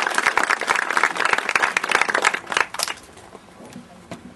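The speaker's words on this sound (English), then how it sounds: "So if we give them a round of applause" A crowd applauds sponsors at an outdoor charity walk event. The clapping is close and dense at first, then thins to a few scattered claps and tapers away.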